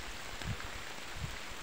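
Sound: rain falling

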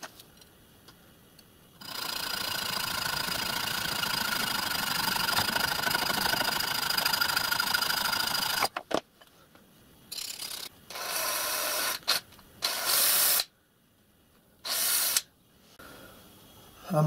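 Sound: copper pipe being cut

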